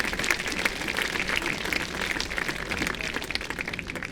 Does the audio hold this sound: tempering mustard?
no